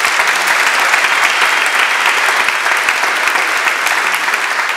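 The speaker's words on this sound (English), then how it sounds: "A little applause for them." Steady, dense audience applause from a full room, many hands clapping continuously at close range with no break, heard on its own without talk over it.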